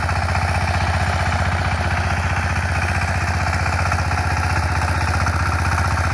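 A Dongfang 20 hp power tiller engine runs steadily with a rapid, even chugging beat while fitted with a rotary tiller for sowing jute seeds in a field, loud and close throughout with no voices.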